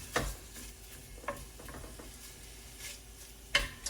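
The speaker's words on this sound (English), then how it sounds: "All right, let's brown this." Mild Italian sausage browning in a soup pot, with a steady low sizzle and a few sharp clinks and scrapes from stirring spaced across the few seconds.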